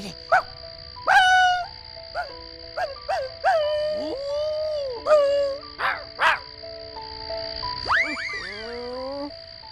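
Several dogs bark and yelp in irregular bursts nearby over about ten seconds, ending in drawn-out, whining howl-like calls.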